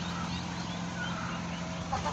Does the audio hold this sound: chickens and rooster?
yes